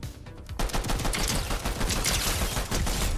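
Rapid, dense gunfire from a sniper rifle in the video game Fortnite, loud and sustained with many sharp cracks bunched together, as in a heavy firefight, with no talking.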